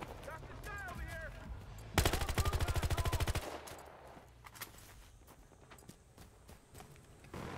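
Automatic gunfire in the video game Battlefield Hardline, a rapid burst of about twenty shots lasting over a second, followed by quieter scattered game sounds and footsteps.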